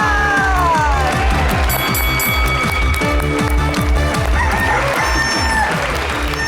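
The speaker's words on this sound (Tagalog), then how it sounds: "tumilaok na po ang mga manok" Roosters crow loudly and repeatedly over a busy, noisy background of clucking chickens and constant rhythmic clatter, with a crowd-like roar throughout.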